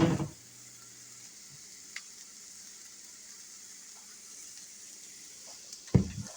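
Onions fry in a pan, giving a soft, steady sizzle at low level, with a couple of brief clatters at the start and end.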